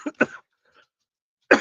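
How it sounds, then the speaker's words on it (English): A person coughs nearby during a live stream: two quick harsh bursts, then silence, then another cough at the end. "I'm starting to feel like coughing"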